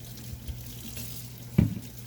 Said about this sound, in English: we're going to just put water on our hands and just see what happens when you just rinse your hands off with water